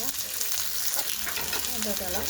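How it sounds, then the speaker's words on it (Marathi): Onion sautés in hot oil, a loud, dense and continuous frying hiss with stirring movement, heard close up and alone. "परतून आता कांदा परतून घ्यायचा"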